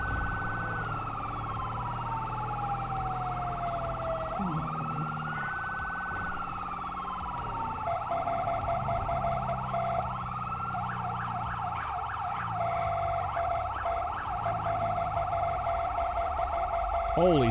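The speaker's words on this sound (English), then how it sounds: "Holy siren, Batman." Police siren in the video game GTA 5 wails and yelps continuously, rising and falling tones over engine noise, with voices talking over it.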